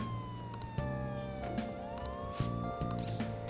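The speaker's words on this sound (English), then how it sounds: "Why did sirens go off the moment that I said that?" In the Persona 5 Royal video game, distant city sirens wail softly over faint background music and ambience, a thin rising and falling tone with scattered clicks.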